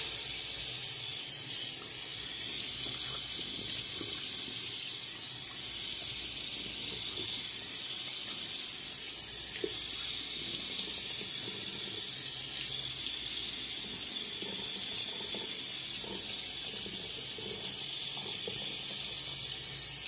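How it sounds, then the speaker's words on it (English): Tap water runs steadily onto a shaving brush at a sink, a constant close hiss and splash with small irregular spatters and no voices. "let's do a little bit of water on the brush"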